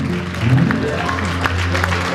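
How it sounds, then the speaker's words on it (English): Audience at a book launch claps with steady applause under a hum of room noise, moderately loud and close. "A round of applause, please."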